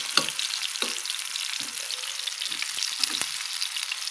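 Raw banana slices frying together in a pan of hot oil, giving a steady bright sizzle with occasional stirring scrapes and small pops throughout.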